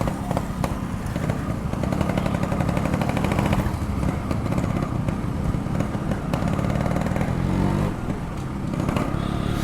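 A Yamaha RX 135 motorcycle engine roars steadily and loudly throughout, a continuous throaty rumble as the bike rides along the road.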